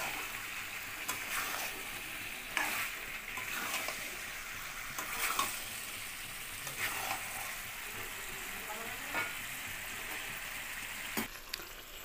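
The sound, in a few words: potatoes sautéing with chicken giblets in a pan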